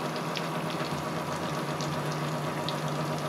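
Big spinach and lentil pakoras fry in hot oil with a steady bubbling hiss, moderately loud and even throughout, with no one talking.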